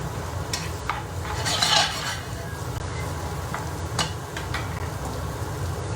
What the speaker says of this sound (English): stir until it's all mixed in together